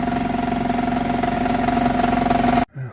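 A Geo Tracker engine runs noisily with a rough, rhythmic idle pulse and a steady hum, close and continuous for over two seconds before stopping abruptly.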